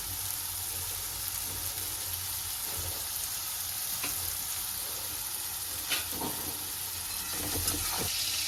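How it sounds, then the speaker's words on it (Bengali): Vegetables sizzle steadily in a hot pan for chow mein, a continuous close frying hiss broken by a few soft scrapes of stirring, with no voices. "যেই একটু ভেজিটেবলসগুলো ভাজা ভাজা হয়ে যাবে, তারপর আমরা একটু চাউমিনটা দিয়ে দেবো"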